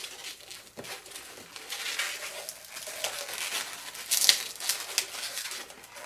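Latex 260 balloon being twisted into small pinch twists, giving close, faint rubbery squeaks and crinkly rubbing with a couple of sharper squeals near the end.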